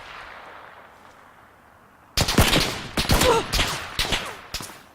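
Gunfire in PlayerUnknown's Battlegrounds: after a quiet stretch, a loud burst of sharp shots cracks out, followed by several more rapid bursts, with no talking.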